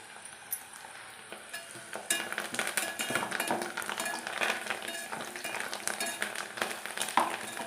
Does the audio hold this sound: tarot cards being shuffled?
no